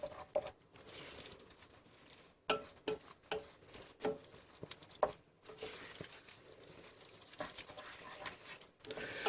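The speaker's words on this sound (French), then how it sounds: "on remue, on casse bien le morceau de concentré de tomate pour qu'il s'étale correctement" Spoon stirring through tomato paste in a pot of bolognese sauce for lasagna, breaking up the lump, with soft scraping and patting strokes and a light sizzle throughout, close and moderately quiet.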